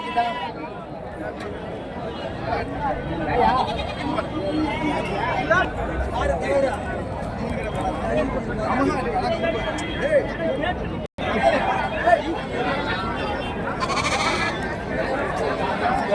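Goats and young kids bleating at a busy rural goat market in Karimangalam, Dharmapuri district, Tamil Nadu, with repeated calls scattered through steady crowd chatter and people talking throughout.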